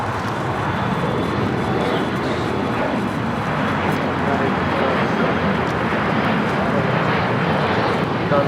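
An Atlas Air airliner on approach to LAX produces a loud, continuous broadband jet roar that holds steady throughout, with some voice underneath.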